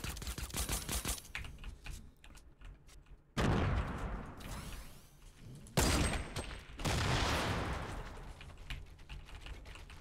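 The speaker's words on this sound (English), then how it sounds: "Another set of grenades." Grenade blasts and gunfire in Fortnite: dense rattling volleys of shots, then two loud sudden bursts followed by long roaring washes of noise, with no talking.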